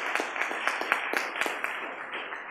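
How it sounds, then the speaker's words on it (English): Audience applause for the organizers of a conference on global trends, a short burst of brisk, dense clapping from a room full of people, fairly loud and fading slightly at the end. "To Ricardo particularly, and to Danielle, I think you deserve a very strong round of applause, and of course to him as well."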